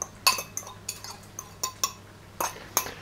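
A fork mixes Gruyere and Emmental cheeses in a dish, giving a series of light metallic clinks and scrapes spaced irregularly, close and fairly soft, over a faint steady hum.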